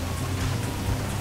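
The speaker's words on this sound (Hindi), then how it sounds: "और सामने हो रही है बरसात" Steady rain pours in the video game GTA, set in Delhi during July; a dense, even hiss of falling drops fills the brief stretch with a low rumble beneath and no voices.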